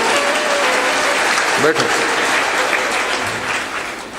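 Dense, sustained applause from a large audience at a Hindi spiritual discourse, loud and steady throughout, with a brief spoken word heard over the clapping.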